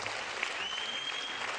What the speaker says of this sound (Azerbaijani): bu anda, bu saniyədə isə bir gürültülü alqışlar istəyirəm